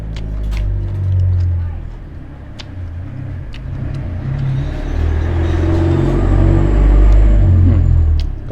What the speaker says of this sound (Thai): มีรถตู้รับส่งนักเรียนพี่น้อง อย่างในหมู่บ้าน ก็จะมีเสียงรถรบกวนอยู่ได้พี่น้องเด้อ